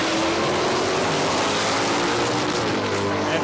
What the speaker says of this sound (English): Brad Price got this late model Mustang with the supercharger on it.